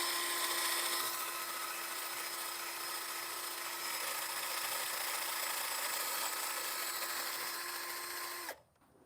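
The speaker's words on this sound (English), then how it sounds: "Alright, just take like a wire brush and just kind of go at it." A wire brush, likely power-driven, cleans the rear brake hub of a BMW Z3 with a steady high-pitched whirring scrub for several seconds, then stops abruptly.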